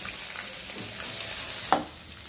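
Garlic and onion sizzle steadily in a pan, a loud continuous frying hiss with a sharp clack of a utensil stirring near the end.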